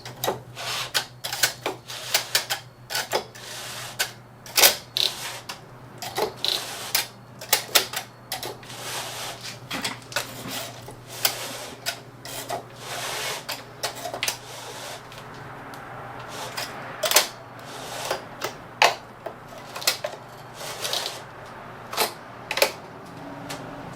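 A sponge bar slides back into its channel over the needles of a Brother 950e knitting machine, giving a long series of sharp plastic-and-metal clicks and taps at uneven intervals over a low hum, close and without talk.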